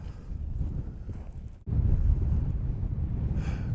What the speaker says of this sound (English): Clouds are rolling in, wind is picking up